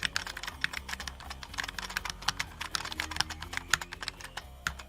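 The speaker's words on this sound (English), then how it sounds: "let's hear this keyboard" Dense, rapid clacking of a heavy all-metal computer keyboard being typed on, keystrokes close and crisp in an uneven rhythm with no talk.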